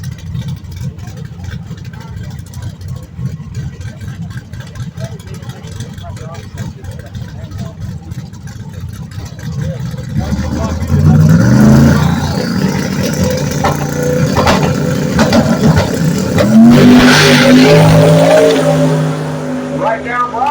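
A 1984 Ford Mustang SVO race car makes a run, its engine building from a low rumble to a loud, sustained roar with rising revs and a brief tire squeal, while people talk over it throughout.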